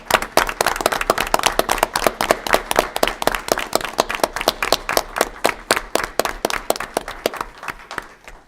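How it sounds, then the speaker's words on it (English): A small crowd at a village council meeting claps in a loose, uneven rhythm, with individual claps standing out clearly throughout. "we'll give a big round of applause."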